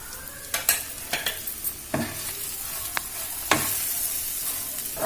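Sliced okra (bhendi) frying in a pan on a stove, a steady close sizzle broken by repeated scraping stirs and clinks of a spatula against the metal.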